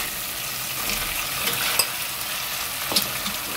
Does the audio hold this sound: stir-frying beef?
yes